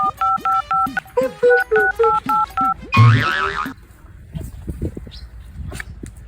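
Rapid run of mobile phone keypad dialing tones, about a dozen short two-pitch beeps in steady rhythm, close and clear, followed by a brief rushing noise and then a voice talking.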